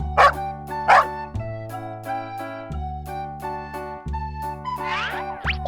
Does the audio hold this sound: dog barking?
yes